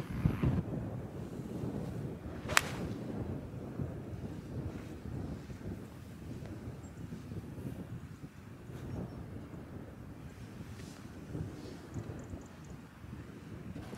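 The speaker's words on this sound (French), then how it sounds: "Le vent commence à se calmer à la seconde" Strong wind sweeps across the seaside golf links at Ardglass, producing a steady, low buffeting rumble against the microphone. The gusts stay fairly quiet and even throughout, with no talking.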